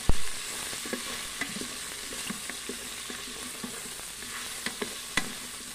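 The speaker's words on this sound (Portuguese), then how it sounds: "Coloquei um pouquinho de cebola picada." Bacon and chopped onion sizzle steadily in a pan while cooking for a pot of beans, with a soft continuous fry and scattered light clicks and scrapes of stirring, no voices.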